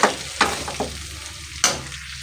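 Mutton curry sizzles and fries steadily in a pan, with several sharp scraping stirs of a spoon against the pan breaking through the constant hiss.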